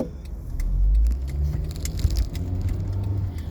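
A black car passes close by with a steady, broad road rumble and a low engine drone that swells and eases over a few seconds.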